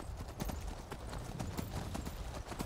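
Horse hooves clip-clop in a steady, quick rhythm in the video game Skyrim, a faint run of repeated hoof strikes with no talk over them.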